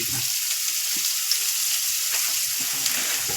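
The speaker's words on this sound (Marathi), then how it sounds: "हा कांदा आपण आता या तेलात टाकून थोडासा परतावून घेणार आहे" Onion frying in oil in a kadhai, a steady close-up hiss with soft stirring bumps underneath, heard alone without talk.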